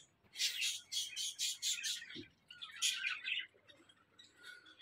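Pet lovebirds, ringneck parakeets and pigeons chirp in a repeated burst of bright, close tweets, followed by more scattered calls and a soft low coo.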